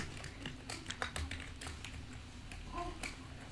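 Code being typed on a computer keyboard, with quick irregular key taps, some bursts of several strokes, at a close but quiet level against a faint background hum.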